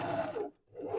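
Sewing machine stitching down a gathered skirt tier, a steady close mechanical whir that stops briefly in the middle and then starts again.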